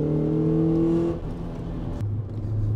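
A Honda Accord Euro R CL1 with an older VTEC engine revs hard, its rising harmonic tone climbing for about a second before dropping away and settling into a lower steady note, close and loud with no talking.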